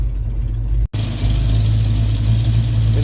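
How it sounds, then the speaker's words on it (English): A Ford Mustang fitted with custom black tailpipes and a partly repaired exhaust leak idles loud and close, holding a steady low rumble except for a brief cutout near the start. "Let's see if it still backfires with the exhaust leaks mostly fixed."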